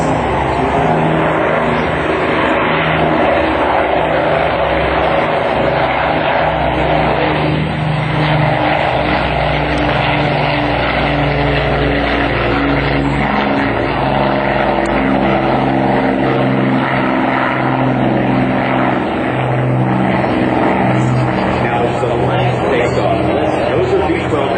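A P-51 Mustang warbird's piston engine roars past loud and steady for the whole stretch, with a deep rumble that swells and shifts slightly, and a voice talking over it.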